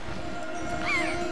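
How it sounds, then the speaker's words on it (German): Seagulls cry in The Legend of Zelda: The Wind Waker, a short rising-and-falling squawk standing out briefly over a steady hum of game music and ambience. "Möwen."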